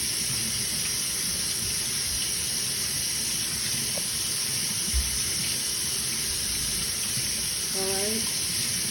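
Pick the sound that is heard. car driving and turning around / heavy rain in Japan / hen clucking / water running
water running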